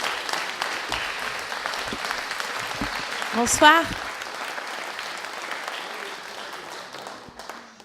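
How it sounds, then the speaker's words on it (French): Audience at an evening Fête de l'Avenir rally in Rennes applauding steadily throughout, a dense even wash of clapping with a brief louder swell midway as a voice speaks over it. "Je vous demande beaucoup d'applaudissements pour lancer Sophia."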